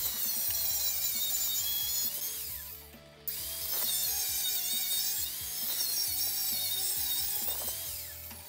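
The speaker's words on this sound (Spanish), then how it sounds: "Ahora voy a marcar para hacer unos cortes." A handsaw cuts into a piece of wood in a home workshop, with steady rapid back-and-forth rasping strokes, close and moderately loud, and a short pause midway before the sawing resumes.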